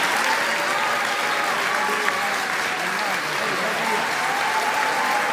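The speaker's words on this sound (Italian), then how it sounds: "l'elezione della professoressa Spatari è stata salutata da un fragoroso applauso dell'aula magna del rettorato" A packed university great hall breaks into loud applause after the election result, a thick, continuous wash of clapping from a large crowd that stays level throughout.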